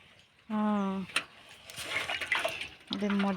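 Tap water runs for about two seconds to wet a child's toothbrush during a morning routine, a steady splashing hiss set between a voice speaking before and after it.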